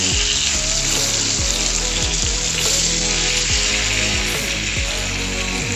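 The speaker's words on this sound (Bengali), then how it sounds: "মাছটা ভাজা হয়ে গেছে।" Pieces of rohu fish fry in hot oil in a pan for a fish piyaja, giving a loud, continuous hiss and crackle with no talking.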